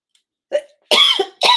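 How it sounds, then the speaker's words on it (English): A few short, sharp coughs close to the mic, a small one followed by two harsher bursts in quick succession. "I'm now going to have a coughing attack."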